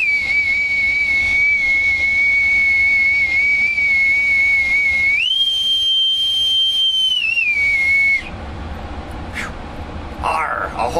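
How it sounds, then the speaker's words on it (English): A brass bosun's whistle from Newport, Rhode Island blows one long, loud, steady shrill note that jumps higher midway, holds, then drops back and cuts off, followed by faint room noise. "With my authentic bosun's whistle from Newport,"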